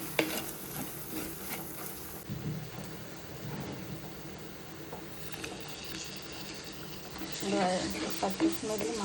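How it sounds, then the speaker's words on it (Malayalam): Chili, coriander, turmeric and fenugreek powders sauté in a pan for a fish curry, a soft continuous sizzle with scraping stirs, fairly quiet and steady, with a voice talking over it. "മുളക് പൊടി, മല്ലിപ്പൊടി, മഞ്ഞൾപ്പൊടി, ഉലുവാ പൊടി ഇട്ടിട്ട് വഴട്ടാൻ കേട്ടോ"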